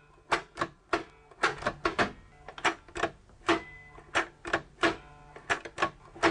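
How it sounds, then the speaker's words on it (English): Keys of an Enigma cipher machine typed one after another, each press a sharp mechanical clack with the rotor stepping, in an irregular rhythm of about twenty close, fairly loud strikes. "every time I type a letter, this rotor moves"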